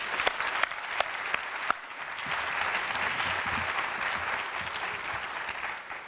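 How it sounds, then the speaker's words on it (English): An audience breaks into applause for a group of African American political pioneers gathered in Hampton, a dense, sustained clapping that starts with a few sharp early claps and swells into a full, even roar across the whole stretch. "Let's give them a big round of applause"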